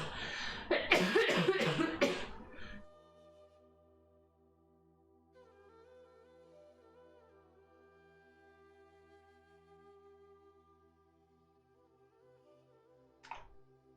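A person coughs hard several times in a quick, loud burst during a vinyasa yoga class, followed by a long quiet stretch of soft background music and one brief sound near the end.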